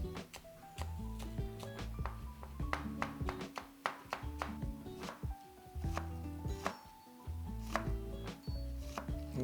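A knife finely chops chives, parsley and onion on a cutting board, a close series of quick, sharp chops in uneven bursts with brief pauses and no talk.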